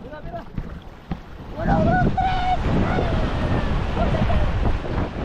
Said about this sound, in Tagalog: Grabe yung alon, eh.